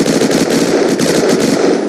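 Continuous rapid automatic weapon fire in the video game Unturned, a loud, dense stream of shots with no pause and no talking.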